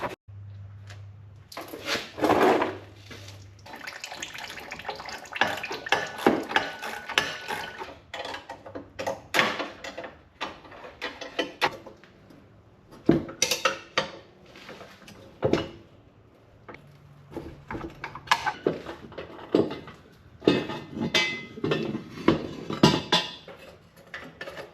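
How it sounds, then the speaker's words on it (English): Exhaust pieces on a V8 Cortina being unbolted from the manifold flanges in a garage, heard as intermittent metallic clinks, taps and clatter of tools and parts, fairly close, with no talking. "both of these exhaust pieces off the manifolds unbolt from the flange"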